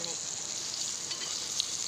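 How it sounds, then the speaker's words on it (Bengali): Pointed gourd (potol) fries in oil in a wok, giving a steady, soft hiss of sizzling with no voices. "সেই পর্যন্ত এটাকে ভাজতে হবে।"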